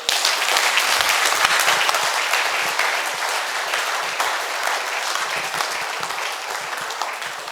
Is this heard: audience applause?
yes